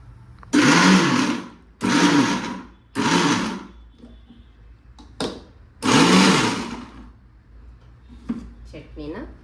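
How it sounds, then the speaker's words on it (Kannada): A mixer grinder whirs in four loud, short bursts, pulsing on and off as it grinds a green chilli, garlic and coriander chutney, with quieter gaps and faint voices between runs. "ನಾನು ಮಿಕ್ಸಿಗೆ ಹಾಕ್ಯಂತೀನಿ"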